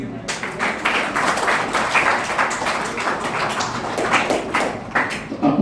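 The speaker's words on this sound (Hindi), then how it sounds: "ओके, तालियां तालियां।" Clapping from an audience at a meditation talk, a fairly dense patter of hands that swells and eases unevenly, with a voice faintly underneath at times.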